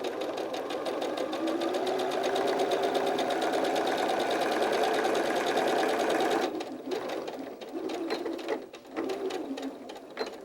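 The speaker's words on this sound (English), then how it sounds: "go ahead and straighten out your fabric so you can sew your last straight stitch" A sewing machine runs a straight stitch along fabric, a fast steady needle clatter for about six seconds, then stopping and restarting in short bursts.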